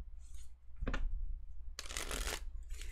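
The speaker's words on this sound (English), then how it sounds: "my fucking shuffling is on point today" Tarot cards shuffled by hand at close range, crisp papery riffles and flicks in separate bursts, one short and one longer, with quiet gaps between.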